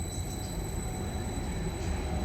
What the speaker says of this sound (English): here is my first ever Greater Anglia train. It is a Class 755 FLIRT 402.